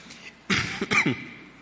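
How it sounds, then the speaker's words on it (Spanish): A single close, harsh cough breaks a quiet moment, followed by a short second cough. "Perdóneme por la tos"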